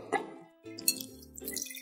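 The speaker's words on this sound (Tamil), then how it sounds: "இளநீர் தண்ணி எடுத்துட்டோம், அதை வடிகட்டிடலாம்." Tender coconut water drips and plops as it is strained in a kitchen, several soft, irregular drops and splashes, close and quiet.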